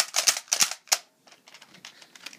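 Nerf Strongarm dart blaster fired in spread fire, three sharp close snaps in quick succession followed by fainter clattering and rattling.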